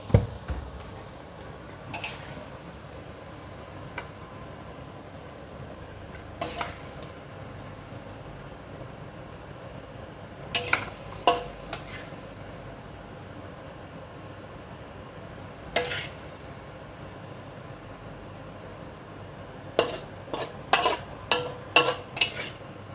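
Sweet and sour pork and shrimp stir-fry: a low sizzle runs steadily under scattered spatula scrapes and clinks against the pan, with a quick flurry of sharp metallic taps near the end.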